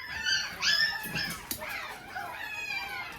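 Several Poochon and Cockapoo mix puppies from a home-bred litter whimper and yip together at close range, in thin overlapping high cries and squeaks with no speech.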